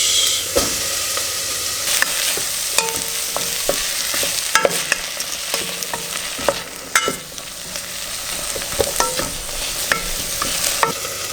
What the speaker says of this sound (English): Stir it a little bit. Garlic as well, plus the tomatoes.